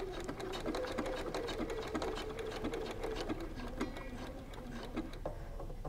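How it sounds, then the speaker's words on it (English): A sewing machine stitches a pocket onto a cork-fabric wallet, its steady rapid needle chatter running continuously and fairly close, with a faint mechanical hum underneath and no voices. "I'm going to align the raw edge of the pocket with the inside of the toe of this presser foot and get stitching."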